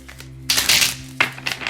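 Tarot cards shuffled by hand nearby, coming as short crisp riffling bursts with a brief pause between them and no voice over them.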